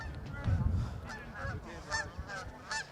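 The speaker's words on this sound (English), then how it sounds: "And the geese are back again." Several geese honk in short nasal calls, fairly close, at an outdoor high school baseball game, with a low background murmur of voices underneath.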